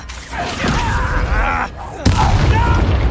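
A Confringo explosive spell blast in the Hogwarts Legacy video game lands as a sudden broadband boom about two seconds in, following a stretch of loud game noise and voice-like tones, and it keeps a dense rumbling tail.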